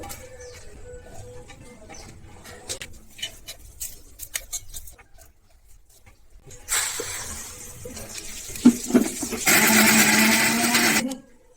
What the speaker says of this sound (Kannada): ಇದನ್ನೆಲ್ಲ ಒಂದೇ ಸರಿ ಜಾರಿಗೆ ಹಾಕೊಂಡು ಮಿಕ್ಸಿ ಮಾಡ್ಕೊಳ್ಳೋದು